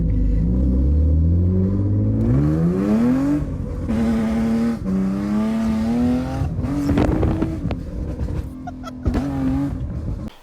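A 20-year-old diesel car engine runs and revs repeatedly, rising and falling in pitch with a deep rumble, loud and close, no voices.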